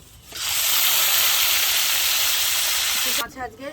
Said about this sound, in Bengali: তা মোরলা মাছটা আগে আমি ভেজে নেব